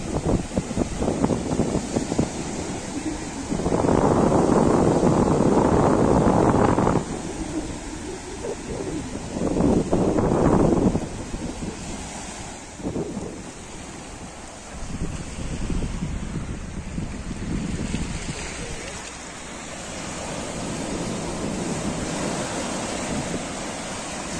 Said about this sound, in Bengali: আপনারা দেখতেছেন অনেক বেশি ঢেউ আসতেছে এখন সমুদ্র সৈকতে